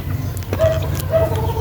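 A hen gives a few short clucks and squawks while being caught by hand in a chicken coop, close and moderately loud against a low background hum.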